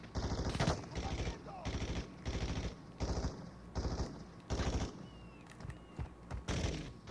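Video-game gunfire crackles in repeated automatic bursts, about eight short volleys spaced roughly half a second to a second apart, fairly close and sharp, with quieter game sounds between them and no one speaking.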